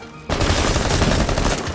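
Rainbow Six Siege gunfire erupts suddenly into a loud, dense rattle of rapid automatic shots that keeps going close-up until the end.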